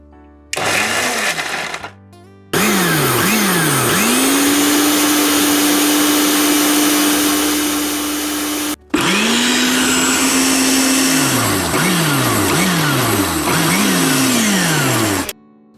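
A mixer grinder whirs loudly in bursts, blending a paste for a creamy Bengali-style makhmali egg curry, its motor revving up, holding a steady drone, cutting out briefly, then spinning up again with pulsing surges.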